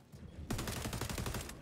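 Rapid rifle gunfire in the XDefiant shooter game, a tight burst of quick shots after a short quiet lead-in, loud and close, running for over a second.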